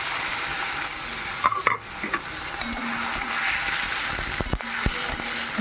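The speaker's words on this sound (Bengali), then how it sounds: "এবার দিয়ে দিচ্ছি সিদ্ধ করে রাখা ওলা আর কাঁঠালের বিচি।" Boiled ola and jackfruit seeds fry in mustard paste with a loud, close hiss. Spatula scrapes and a few knocks against the pan break through the frying noise.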